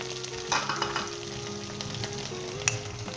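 Ginger and garlic fry in a pan for a chana and urad dal sabzi, giving a steady close sizzle with soft stirring scrapes and a few brief pops over about three seconds, with no voices.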